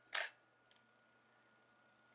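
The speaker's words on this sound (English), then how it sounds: "once you take a picture, this is your shutter release." An antique film camera's shutter release is pressed, giving one sharp, close mechanical click followed by a much fainter second click, then quiet.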